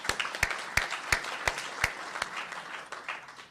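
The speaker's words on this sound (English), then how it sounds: "So I think that deserves a round of applause." At a medical talk on childhood IBD research, an audience gives light, moderately distant applause, with several distinct claps early on that blur into a softer patter as it fades.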